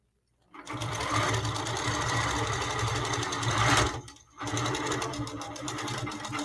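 A sewing machine stitching a quilt runs at a loud, steady buzz, stops briefly, then starts again, with no talking.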